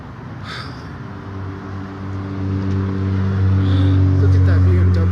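A BMW car drives by on a street, its steady low engine drone swelling louder as it nears, with faint background street noise.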